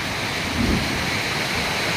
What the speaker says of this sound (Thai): ฝนตกอย่างนี้นะครับ เป็นความ รุ่มเย็นนะครับนะมองไปทางทุ่งนา นะเม็ดฝนก็โอเคนะ